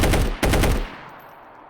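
Fully automatic Bozar gunfire in a Fallout: New Vegas mod: two rapid, loud bursts in quick succession, followed by a short fading echo tail.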